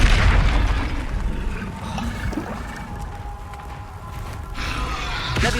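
Depulso spell effect in Hogwarts Legacy: a low booming impact at the start that rumbles and fades, followed by softer swishing and crackling game effects and a renewed surge near the end.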